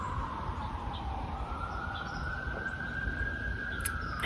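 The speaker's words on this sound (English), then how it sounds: "I just realized there are some sirens in the background." A police siren wails faintly in the distance, one long, slowly rising tone under steady background noise, with a few soft bird chirps.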